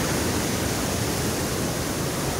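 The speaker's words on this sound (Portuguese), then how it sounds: "Ali é a segunda queda da água" A second drop of a waterfall roars as a steady, dense wash of falling water, loud and unbroken throughout with no voices.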